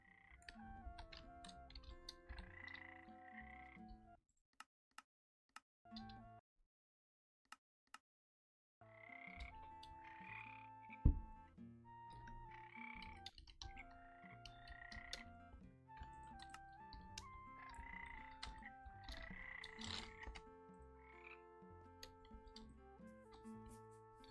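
Frogs croak repeatedly in the Minecraft Cobblemon mod, a steady run of game croaks over background music, with a brief quiet gap early on and no talking.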